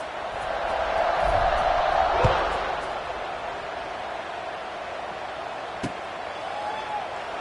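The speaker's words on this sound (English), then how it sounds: "this crowd is buzzing after that last score" A stadium crowd buzzes in an American football video game, a steady roar that swells and fades, with a sharp slam-like hit midway.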